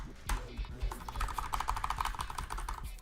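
Typing on a computer keyboard, with rapid close clicks that quicken into a dense flurry in the middle, against a low background hum.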